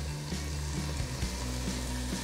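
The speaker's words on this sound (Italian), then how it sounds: "Verso il vino bianco e lascio evaporare la parte alcolica." White wine poured into hot pan juices while cooking a pork loin roast with onions, giving a steady close sizzle that hisses evenly throughout, with no voices.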